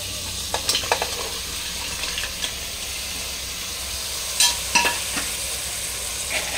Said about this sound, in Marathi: आता हे जे आपण पीस केलेले जे खेकडे होते सगळे ते आपण त्याच्यात टाकून घ्यायचे